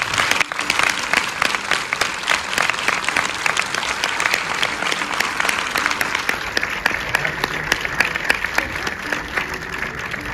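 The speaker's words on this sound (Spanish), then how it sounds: "pido un fuerte aplauso para Teresa Bellón, César Calvi, directores de Buscando a Jorge, y para Alexandra Gil" Strong, sustained audience applause at a film festival presentation for the directors and actress, dense and even throughout, with scattered sharper claps.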